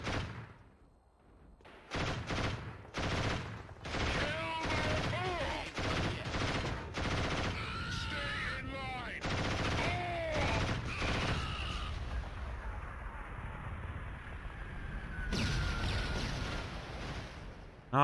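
A mounted turret machine gun firing in the Killzone video game, sounding in repeated loud, close bursts of rapid shots broken by short pauses, with a voice talking over parts of the action.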